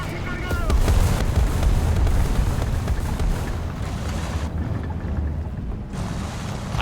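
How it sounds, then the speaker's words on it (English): In a tank video game, a rumbling XM803 tank engine churns low and heavy at close range, mixed with broad wind-like noise and rattling in a steady, loud drone with slight swells in intensity. "I just managed to make out this XM803's engine."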